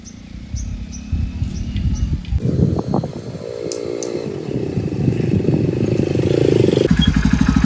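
A motorcycle pulls up at a house, its engine rumbling nearer and growing louder as it arrives, with clattering and a faint rev toward the end.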